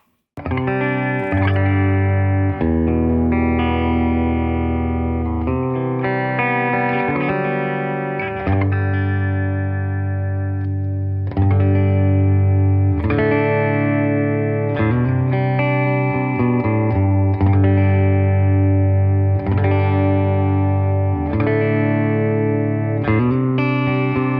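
Electric guitar played through a Fender Bassbreaker 30R amp on channel 1, EQ near noon and volume high, ringing out bright, sustained chords and single notes with distortion and reverb, with no talk over it.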